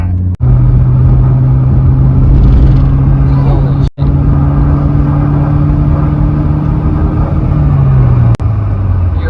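A Subaru engine fitted with a cool air intake pulls in third gear, a loud steady drone with a sustained tone that drops near the end, with brief cutouts and wind rumble inside the car.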